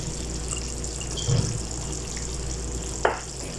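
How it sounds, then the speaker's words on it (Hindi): Chopped onions frying in a pan, a steady close hiss and sizzle with a short bump of clatter and a sharp tap near the end, no talking. "तकरीबन 2 दरमियाने साइज़ के कटे हुए प्याज लिए हैं, इसको भी डाल लूँगी"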